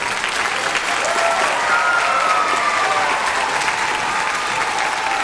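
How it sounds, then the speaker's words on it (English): Steady, even applause from an audience at a puppet show with a solo violinist, a continuous bright patter of many hands with faint tonal traces beneath and no clear talking. "Big round of applause for our puppeteers."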